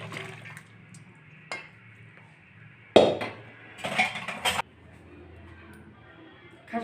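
Cooked mutton curry is tipped out of a pot after cooking, giving a few short wet pouring and sloshing bursts with light clinks of metal cookware. The sounds are faint and close, separated by quiet gaps.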